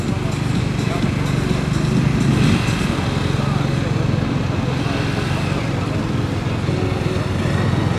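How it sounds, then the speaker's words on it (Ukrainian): A Kawasaki Z500 motorcycle runs a gymkhana cone course at a competition, its engine droning steadily at moderate distance while an announcer talks over it throughout. "Мотоцикл поставила дуже правильно."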